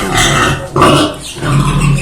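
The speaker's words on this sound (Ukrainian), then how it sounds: "сьогодні ми оббили все нашу свиню. Кричить, вона нервується" A pig squeals loudly in two bursts with a short gap between, close by, amid rough farmyard noise.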